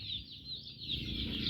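Native striped Thai chickens cluck and call faintly in an outdoor yard, with a thin high call running over a low background rumble and no talking.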